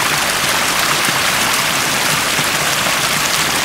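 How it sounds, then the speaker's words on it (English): Water flows steadily through marshy terrain, a continuous even hiss and trickle with no pauses or voices. "From some distance away, you can hear this water."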